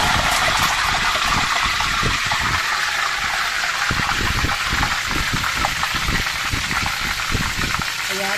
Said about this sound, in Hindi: अब हम थोड़ा दूर जाकर इसमें इस पानी का छिड़काव कर देंगे